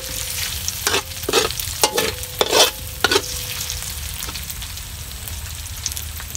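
Spaghetti stirred in a noisy metal frying pan over steady sizzling frying, with several sharp scraping clanks of the spoon against the pan in the first half, then just the continuous hiss of cooking.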